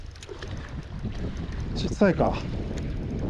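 Gusty wind roars across a microphone at a seaside spot during chinu float fishing, a steady rushing bed of noise close to the mic, with a short spoken remark briefly heard over it.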